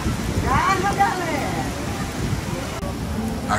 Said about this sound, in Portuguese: Ubatuba chove mesmo, a gente já sabe que chove.